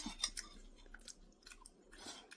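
Crunchy bites and chewing of a crispy fried food made with glutinous rice flour, several close, distinct crunches in irregular bursts with quiet pauses between.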